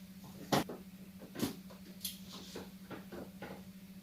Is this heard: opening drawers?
yes